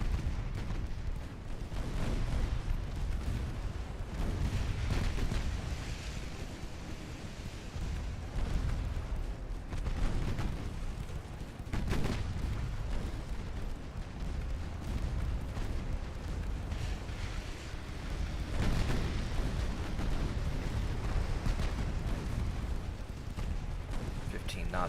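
Warship guns firing in Ultimate Admiral Dreadnoughts during a naval battle, a dense, continuous rumble of heavy booms and blasts that rolls on without pause, with a voice talking over it.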